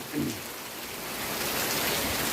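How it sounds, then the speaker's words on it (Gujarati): Dense, steady hiss of heavy rain falling continuously in Junagadh district, growing slightly louder toward the end, with no voices. "તો આ વરસાદ જોઈ લ્યો"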